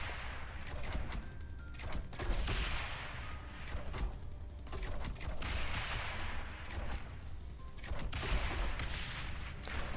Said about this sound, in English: you can see those mortars just eat through these guys